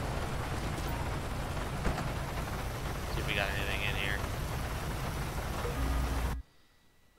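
Steady rain falls in a police patrol video game, a dense hiss that covers the scene, while someone talks over it briefly before the sound cuts off abruptly near the end.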